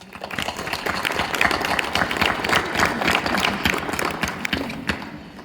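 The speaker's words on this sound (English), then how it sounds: "So let's give Denise a round of applause." Steady applause from an audience at a talk in an aviation museum, dense clapping sustained throughout at moderate loudness, with no speech over it.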